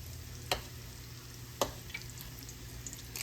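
Corn fritters fry quietly in a pan of hot oil, a soft steady sizzle with two sharp clacks as they are flipped and a few small pops and spits.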